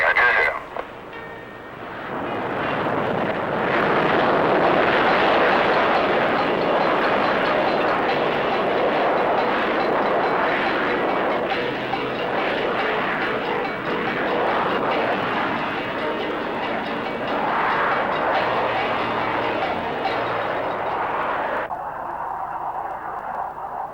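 A loud English Electric Lightning jet fighter engine roars steadily for about twenty seconds during takeoff, broad and rushing, then cuts off abruptly, leaving a quieter hum.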